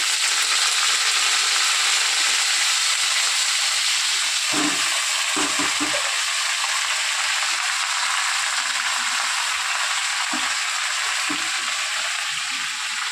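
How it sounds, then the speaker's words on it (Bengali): Chopped vegetables sizzle loudly in a hot pan for a vegetarian curry, a dense, continuous crackle with a few soft clunks of stirring partway through. "তো চলো আমি সবজিগুলো কিন্তু ছেড়ে দিই।"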